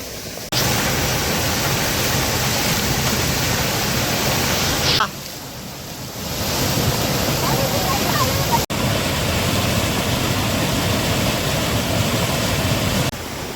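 Sai waterfall near Karnala fort roars as a loud, steady broadband rush of falling water, briefly dipping around the middle before returning at full strength for the rest of the span.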